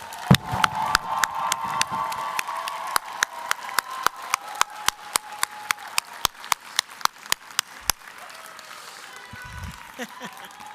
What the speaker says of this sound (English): It's time for you to give them a big round of applause.